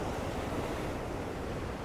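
Ocean waves breaking against a causeway at sunrise, a loud close wash of surf with wind buffeting the microphone, continuous and unbroken.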